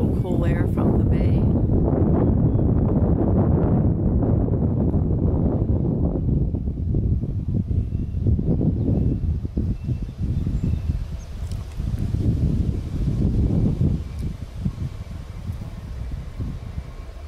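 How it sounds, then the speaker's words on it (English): Strong gusting wind buffets the microphone outdoors on a hot day as the air shifts, a continuous loud rumble that gradually eases, with talking heard over it. "The wind's changing."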